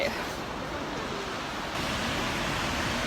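Skógafoss waterfall in Iceland roars in winter, a dense, constant rush of falling water mixed with wind buffeting, heard up close.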